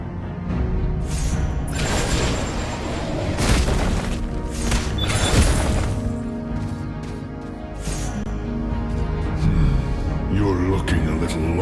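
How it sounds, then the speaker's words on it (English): A turret is destroyed in an online battle arena game, a loud booming crash heard among dense game effects and music, with an announcer voice speaking over the action. "You destroyed a turret!"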